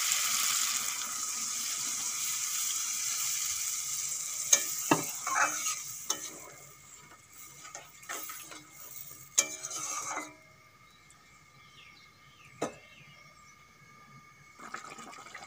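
Potato curry with spices sizzles loudly in a pan after coconut milk is poured in, then the sizzle fades into intermittent scraping and clattering stirring sounds.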